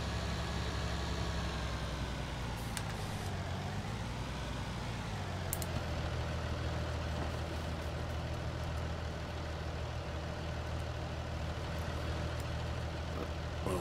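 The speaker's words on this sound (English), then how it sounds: "Let me know as well if the sounds of the tractors and the environment are a bit too loud" A farm tractor engine idles outdoors with a steady, low, continuous drone that holds even for the whole stretch, with no one talking.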